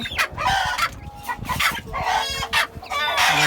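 Native deshi hens and chicks cluck and chatter close by in a rural coop, with repeated bursts of clucking and a rooster crowing among them.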